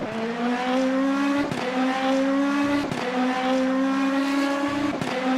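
In Le Mans Ultimate, a Lamborghini race car's engine hums loud and close, its pitch climbing then snapping down at each of three or four gear shifts, with a hint of tyre noise and no voices.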